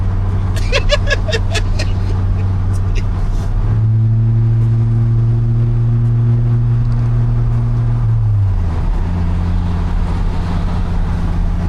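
Dodge Viper RT/10 engine running loudly and steadily throughout, with a deep droning tone that rises in pitch mid-way as revs climb, then settles back; brief faint voices early on.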